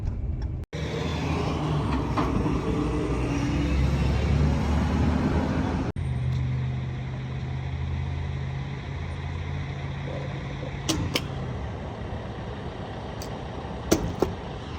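A 2014 Ram 3500 pickup with a Cummins diesel, towing a heavy load, rolls slowly into a fuel station, its engine droning steadily and loud up close with a low, continuous rumble that eases down partway through; a few faint clicks near the end.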